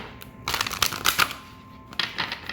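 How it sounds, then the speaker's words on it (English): Quick riffling bursts of tarot cards being shuffled, two rapid rounds close up with a short pause between them. "get another good shuffle."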